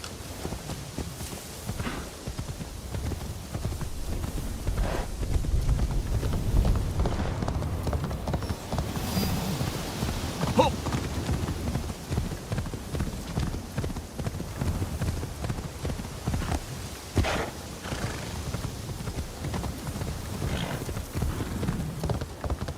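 Horse hooves clip-clopping in a video game, a steady rhythmic run of hoof strikes that carries on throughout at moderate loudness, with faint background game sounds.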